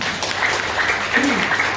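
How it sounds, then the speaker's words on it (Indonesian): An audience at a sales seminar gives a short burst of dense applause, with a speaker's voice faintly heard over the clapping. "Ya kan, tepuk tangan buat Bu Haja Linda."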